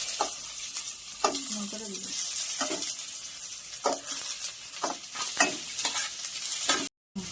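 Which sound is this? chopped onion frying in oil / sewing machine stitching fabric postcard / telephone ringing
chopped onion frying in oil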